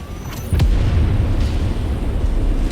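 A giant mech blows apart in the MechWarrior 5 video game, a sudden deep boom that rolls into a long, loud, rumbling blast with crackling debris under it.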